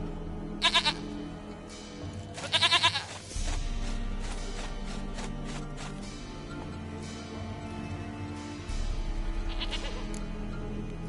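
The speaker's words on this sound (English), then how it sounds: "Goat of mine, dearest, sweetest goat." A goat in The Witcher 3: Wild Hunt bleats twice in short quavering bursts, then again faintly later, near and loud over a low ambient game hum.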